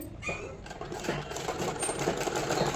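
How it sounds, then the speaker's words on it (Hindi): A sewing machine runs steadily as it stitches a straight fabric strip onto a designer palazzo pant, a close, continuous mechanical whir with light clatter. "यहाँ पे सिलाई लगाना स्टार्ट करेंगे"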